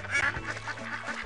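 Cartoon ducks quack in the Putt-Putt video game, a steady run of overlapping nasal quacks close up over a low hum of game music, with no talk.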